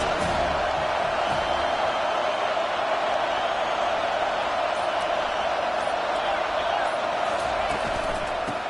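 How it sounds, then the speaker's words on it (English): Steady roar of a college football stadium crowd, a dense continuous wash of cheering and voices held at constant loudness throughout with no pauses. "They challenge this crowd to bring the energy, and I'd say they're doing that."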